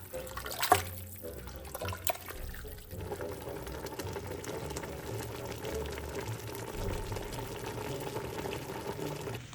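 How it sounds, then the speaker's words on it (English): Water with vegetables in a pot for spicy beef noodle soup churns and bubbles in a soft, continuous burble after a few clatters at the start, quiet and close, with no talking. "then we're gonna add some water, just good enough to top it off. And then we're gonna bring it to the boil"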